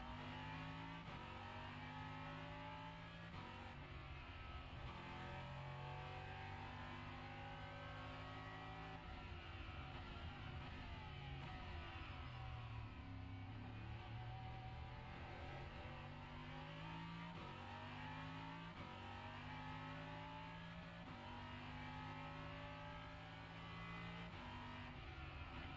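A race car engine in iRacing revs hard, climbing and dropping in pitch again and again as it shifts through gears, a continuous close whine with no voices over it.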